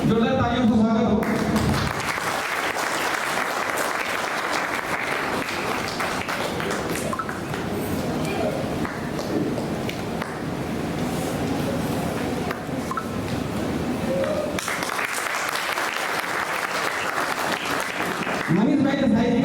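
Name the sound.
audience applause welcoming guests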